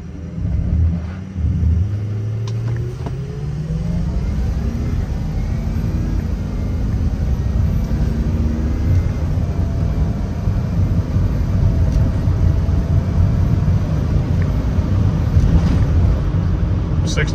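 A stock 6.0 diesel pickup with a blue spring mod pulls hard on a quarter-mile run, its loud, steady low rumble rising in pitch as it climbs through the gears, with wind buffeting the microphone throughout.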